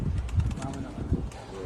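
Pigeons coo softly in a loft, low repeated murmuring calls blended with faint rustling and background voices, the cooing fairly quiet and partly under the surrounding noise.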